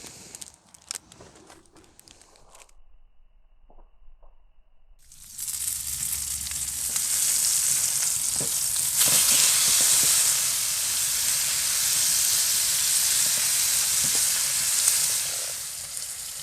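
A 10-ounce Delmonico ribeye hits a hot pan over a campfire while camping. Quiet scattered handling noises come first, then a loud, steady hiss and crackle of searing meat takes over and continues close up, with no talking.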